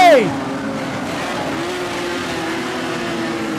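Modified sedan race cars racing on a dirt speedway during a B-Main, several cars running three wide; a steady loud engine roar with a brief tire squeal at the start, under a commentator's voice.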